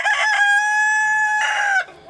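A single loud, close rooster crow rings out, drawn out for nearly two seconds before stopping abruptly.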